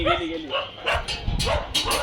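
Several dogs bark and yip in short, close bursts, with a person speaking over the barking at the start.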